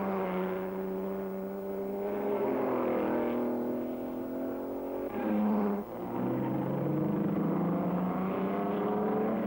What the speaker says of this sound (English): Tom Cole's Ferrari and Peter Walker with the leading factory C-Type